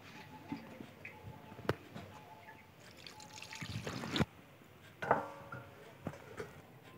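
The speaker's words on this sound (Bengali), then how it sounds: "এবারে জল দিয়ে দিলাম।" Water trickles and pours into a pot of homestyle chicken curry with potatoes, a thin uneven stream with splashes and drips, fairly quiet and close, with a few louder splashes.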